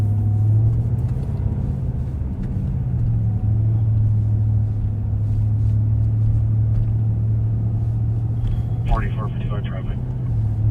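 Steady road traffic rumble heard from inside a moving patrol car, a continuous low engine and tire drone with a brief higher whine near the end.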